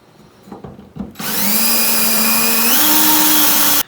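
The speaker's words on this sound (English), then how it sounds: "So I'm just going to drill a pilot hole first" After a few soft handling bumps, a power drill drilling a pilot hole whines up to a loud steady spin and runs for a couple of seconds before stopping abruptly.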